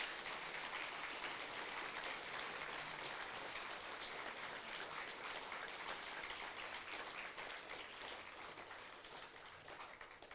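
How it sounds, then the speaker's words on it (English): Students and audience at a competition day give a sustained round of applause, a dense, even wash of many hands clapping that fills the room steadily and tapers slightly toward the end. "So if you give yourselves a round of applause."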